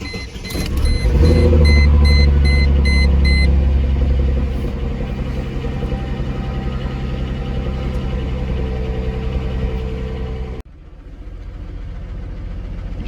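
A Chrysler Crossfire engine runs at idle close by, a loud, steady low rumble that swells briefly early on, settles into an even hum, then drops abruptly before continuing more quietly.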